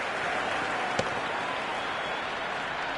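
Crowd applause in the Cricket 26 video game, a soft, steady wash of stadium clapping and cheering with one sharp click near the start, moderately faint and continuous.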